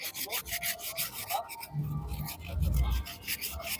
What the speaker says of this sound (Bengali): একটু ঘষা দিতেই দেখুন কালিগুলো পুরো উঠে যাচ্ছে